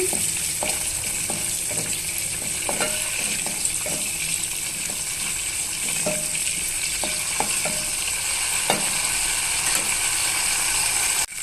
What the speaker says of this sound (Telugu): ఇప్పుడు ఇందులోనే పోపు దినుసులన్నీ వేసేసుకుందామండి